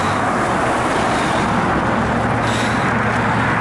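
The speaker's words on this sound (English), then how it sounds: "As you can see, lots of traffic." Steady road traffic rumble on the Route 52 bridge between Ocean City and Somers Point, heard from a bicycle on the incline, a loud continuous roar with wind buffeting and no pauses.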